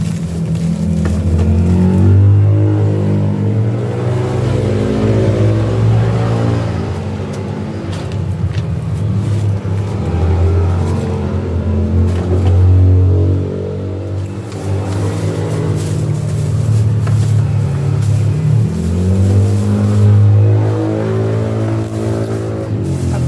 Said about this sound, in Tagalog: Pasensyahan nyo na guys ang ingay kasi napakaingay ng ang ating kalsada ngayong araw.